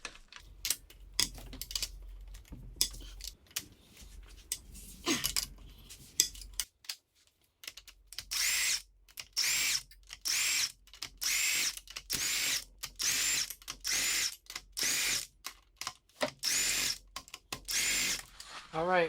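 Power tool removing the cylinder head studs from a 1.8-litre BP05 engine on an NA Miata, heard as many short, loud bursts repeating in a rapid stop-start pattern, close up and alone after a quieter opening.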